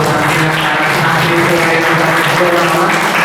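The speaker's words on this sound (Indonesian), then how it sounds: "beri tepuk tangan" Applause from an audience of students at a school closing ceremony, a continuous, loud wash of clapping and crowd noise with some voices mixed in.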